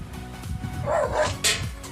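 A dog barks a few times nearby, short sharp yaps over faint background noise.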